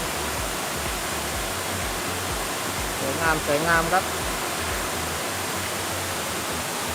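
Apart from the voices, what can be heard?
Khlong Yot Nam waterfall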